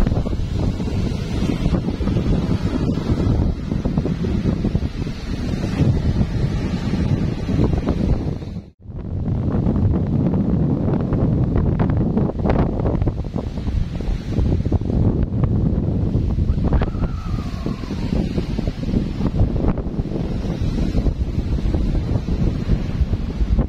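Strong sea waves and gusty wind batter the shore at Anda, Bohol, a loud, continuous roar of surf and wind buffeting the microphone, broken once by a brief dropout.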